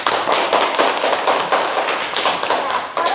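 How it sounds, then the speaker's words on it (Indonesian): Classmates give a student a round of applause in a classroom, with many hands clapping together. The clapping is loud, dense and continuous, with a slight swell and fade, and nobody talks over it. "Ya, tepuk tangan untuk Alisa."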